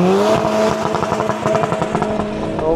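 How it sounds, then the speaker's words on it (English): A Ford Focus ST engine revs hard and loud as it accelerates on a race track, a raspy rising drone with rapid pulsing exhaust crackle, close by. "Ford Focus ST this time, and it is very loud in comparison to the other cars"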